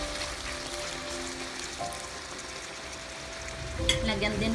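Bacon fries in a pan until brown with a steady, soft sizzle and crackle, and a slightly brighter burst of spattering comes near the end.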